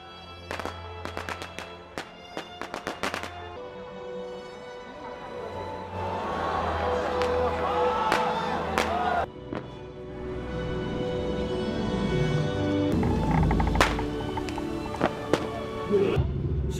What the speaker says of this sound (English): fireworks are replaced by molten metal lobbed against a cold, hard wall.